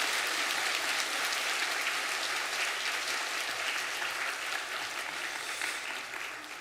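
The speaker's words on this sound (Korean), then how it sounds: "박수하겠습니다." A church congregation applauds after an infant baptism during a Sunday service, with steady, fairly even clapping that slowly tapers toward the end and no voices over it.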